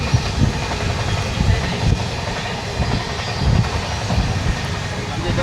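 A passenger train heading to Hyderabad rumbles steadily with a loud, continuous rolling roar and soft rhythmic clatter from the wheels, heard from inside the carriage.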